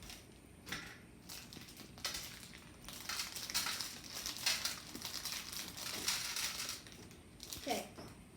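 Crinkly plastic packaging around a Lego egg is cut and torn open at close range, with irregular crackles, rustles and snips building in intensity, and a brief voice near the end.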